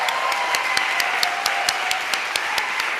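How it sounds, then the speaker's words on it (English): A room full of political activists at a kick-off meeting applauds with a steady, fairly loud round of clapping. Distinct rhythmic claps from someone nearby stand out over the crowd, and a faint tone hums underneath. "I want to give you guys a round of applause."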